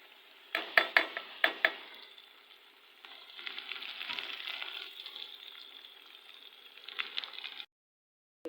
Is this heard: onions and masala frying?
yes